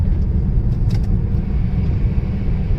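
A car on a test drive gives a steady low rumble of engine and road noise, close and continuous from inside the cabin, with a few faint clicks above it.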